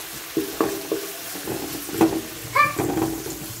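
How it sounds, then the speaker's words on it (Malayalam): Sliced onions deep-frying in oil for chicken biryani, a soft continuous sizzle punctuated by several distinct stirring knocks and scrapes against the pan. "അങ്ങനെ നല്ലോണം സവാള പൊരിച്ചിട്ട് എടുത്തു കൊടുക്കുക"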